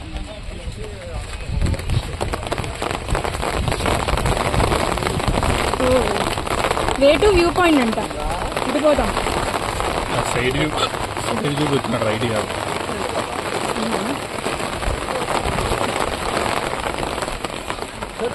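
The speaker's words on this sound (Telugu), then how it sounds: "చూడండి, వర్షం పడుతుంది." Rain falls steadily across a garden in Coorg, a constant wash of patter heard beneath people talking nearby.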